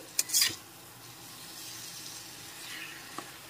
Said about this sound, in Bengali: অর্ধেকটা মতো ম্যাগি দিয়ে একটু ভালো করে নেড়েচেড়ে মিশিয়ে নিচ্ছি।